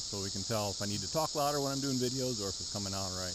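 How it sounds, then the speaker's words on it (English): A dense chorus of 17-year periodical cicadas in Ohio woods gives a steady, high continuous drone under someone talking close by. "The noise you may hear in the background is hundreds of thousands of cicadas."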